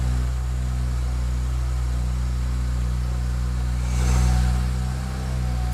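A BMW E92 335i engine idles with a steady, low mechanical hum after being started once air was back in the fuel lines. A brief swell about two-thirds through sounds like a small rev before it settles back to a smooth idle.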